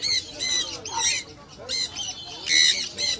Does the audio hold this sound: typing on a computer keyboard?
no